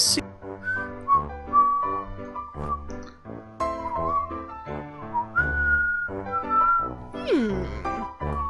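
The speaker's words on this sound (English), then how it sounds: "Can you whistle Yankee Doodle?" A clear whistled melody of Yankee Doodle with sliding, warbling notes, played steadily over a low musical accompaniment, ending in a quick upward-and-down swoop.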